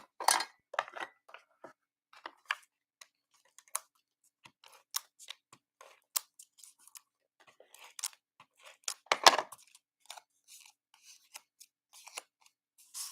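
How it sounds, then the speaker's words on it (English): Adhesive tape pulled and pressed on while packing a box, heard as a run of sharp, dry rips and crinkly handling noises in short irregular bursts, close up, with no talking. "I'm just going to use my tape."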